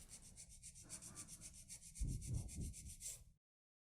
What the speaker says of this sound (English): I'm going to be filing in 5 steps. Step number 1 is straight out from the nail groove on the left.